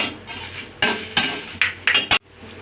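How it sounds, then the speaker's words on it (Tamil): Dried red chillies tossed into a pan with roasted garlic for idli podi, giving several short metallic clatters and scrapes of a spoon against the pan, then quiet. "இந்த ஸ்டேஜில் வரமிளகாய் போடுறோம்."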